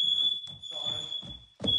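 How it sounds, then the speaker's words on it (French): Smoke or fire alarms beep with a steady high-pitched tone as Californians flee a wildfire, the shrill signal running almost continuously over muffled background rumble and movement. "Ces Californiens filment leur fuite au son des alarmes."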